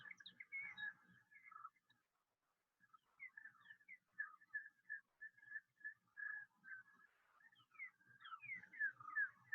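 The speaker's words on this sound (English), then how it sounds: "northern cardinals calling in the background and also song sparrows, in addition to the calls of the Sandhill cranes" Sandhill cranes, northern cardinals and song sparrows call throughout on a spring morning at a river near Kearney, Nebraska: short whistled notes and chirps repeating from a moderate distance, a brief quiet gap early on, rougher trilling calls mixed in.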